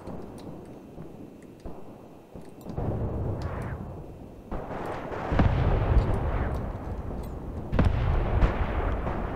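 Artillery rounds land in the Graviteam Tactics war game: a continuous rumble of distant and nearer explosions, with several heavy booms rising out of the roar and sharp cracks scattered throughout.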